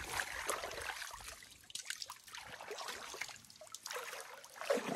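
Cold water flows and trickles outdoors in a natural setting, a continuous splashing wash that swells and dips at moderate loudness with no voices.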